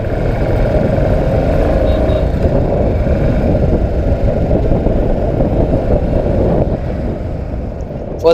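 Royal Enfield BS4 motorcycle engine with new filtration near the carburetor idles in a steady, compressed low thump, loud and close, with wind noise on the microphone and no talk.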